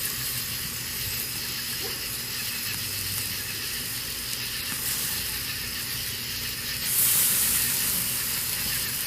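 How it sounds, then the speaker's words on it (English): Tri tip steak sizzling over an open flame in a cinder block pit, a steady broadband hiss and crackle, close and continuous, growing briefly louder near the end. "We got it simmering on right over the flame there"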